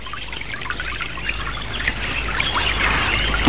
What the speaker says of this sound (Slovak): toto bol naozaj dobrý nápad, dať vodu do obalu z potravinovej dávky